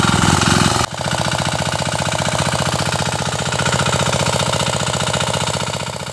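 A water pump engine on a farm field runs loud and close, chugging in a fast, even pulsing rhythm after a brief change in tone at the start, with no talk over it.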